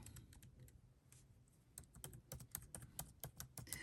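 Computer keys clack sparsely at first, then build into rapid, steady typing close by, with no voices.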